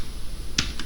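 Computer keyboard shortcut keys pressed while coding, a quick pair of sharp clicks close together near the end, with faint room hiss before.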